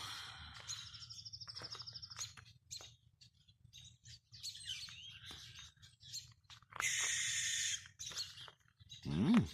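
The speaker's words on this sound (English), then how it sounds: "Little birdies are pissing the owl off." Small birds chirp and squawk in sharp repeated bursts as they mob an owl, with a low hooting owl call underneath and a loud squawk at the end.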